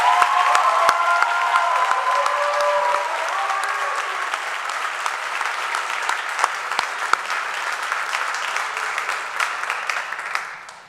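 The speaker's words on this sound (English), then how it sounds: "One more big round of applause for the Bachelor of Science recipients." Sustained applause from a large audience at a college commencement, honoring Bachelor of Science graduates; steady dense clapping holds for about ten seconds, then fades out at the end.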